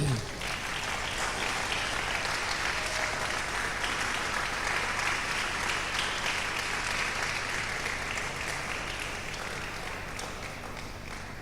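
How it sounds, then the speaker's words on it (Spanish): A Spanish-speaking church congregation applauds, a loud, dense and sustained wall of clapping that holds steady throughout and eases off slightly near the end. "Denle un aplauso al Señor."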